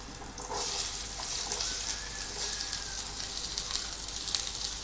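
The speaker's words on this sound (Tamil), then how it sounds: "நறுக்கி வச்ச வெங்காயத்தை ஃப்ரை பண்ணுங்கள்" Onion and snake gourd fry in a pan with a steady sizzle, a continuous hiss with small crackles and occasional stirring, close by with no talking.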